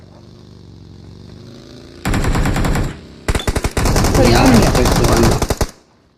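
Machine gun fire in a video game: a rapid, loud automatic burst of about a second, a short pause, a few single shots, then a longer sustained burst before the sound cuts off.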